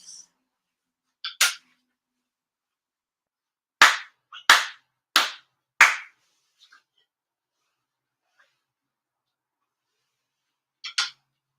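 Sharp ritual hand claps in Shinto-style worship at an end-of-year ceremony: a pair of claps, then a measured run of four crisp, evenly spaced claps, and one more pair after a long silence, each ringing out alone in a quiet room.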